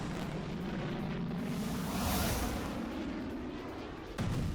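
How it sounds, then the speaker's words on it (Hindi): A missile launching from a warship makes a continuous, loud, roaring rumble that swells slightly toward the middle and then holds steady, with no voices. "दावा युद्धपोत से मिसाइल लॉन्च का।"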